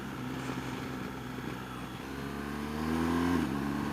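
A 2016 BMW R1200GS motorcycle engine under throttle, a steady droning hum that rises in pitch and grows a little louder as the throttle opens, heard up close with no voices.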